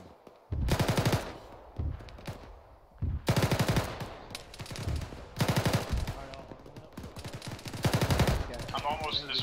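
Rapid bursts of blank gunfire with tracers during a military field training exercise come as four loud automatic volleys at regular intervals, with brief gaps between them and faint voices near the end.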